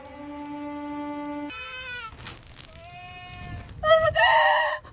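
Sheep of a rare, prized breed bleat in a sequence of long wavering cries, one voice after another, ending in a louder, harsher call, close by with no speech.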